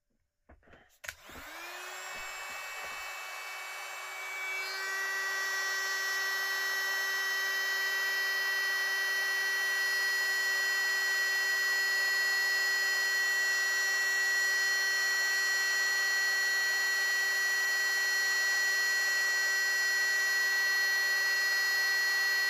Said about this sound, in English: Now we're just going to put our heat gun on here and give this a blast.